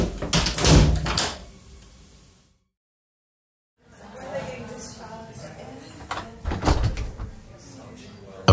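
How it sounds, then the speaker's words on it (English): A bathroom door swings shut with a dull thunk, followed by a brief stretch of near silence before muffled room sounds return; a voice talks over parts of it. "He entered the bathroom and closed the door behind him."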